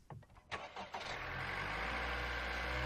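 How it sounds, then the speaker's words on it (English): A car engine cranks several times, checked with a Lokithor JTC4250 jump starter, then catches and settles into a steady low idle, close by. "I actually need to start the engine to let the jump starter get some readings."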